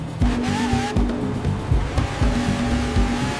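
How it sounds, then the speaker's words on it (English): Car engine of a restored supercar transformed from a rusty wreck, revving in a desert setting: a loud, deep, pulsing roar with rhythmic surges, close and continuous, plus a faint squealing tone. "now a roar of the engine echoes through the endless desert"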